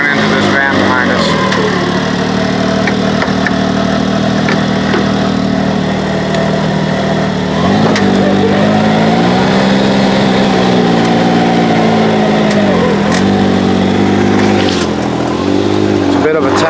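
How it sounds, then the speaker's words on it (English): Vehicle engine idling and pulling slowly forward into a trailer on the road to the desert, a steady low drone with a brief rise in revs midway, close and continuous while people talk over it. "We're gonna pull this thing straight forward into the trailer"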